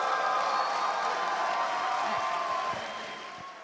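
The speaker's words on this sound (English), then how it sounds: "Let's give a round of applause." Audience applause and cheering for a winning player at a USA versus India chess event, a dense steady wash of clapping that fades slightly toward the end, with faint voices mixed in.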